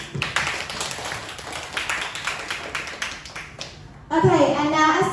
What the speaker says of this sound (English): Everyone, please can I have a round of applause to welcome both teams.